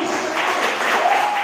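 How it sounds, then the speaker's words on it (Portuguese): Congregation applause during a church service, a brief burst of clapping from a crowd in a hall, fairly steady and moderately loud with some voices mixed in. "Dá para um aplauso bem forte ao Senhor Jesus."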